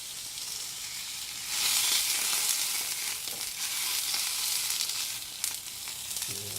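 Food cooks on a very hot pan over a strong flame, giving a dense, loud, continuous sizzle that swells after the first second and holds steady throughout, with one faint knock near the end.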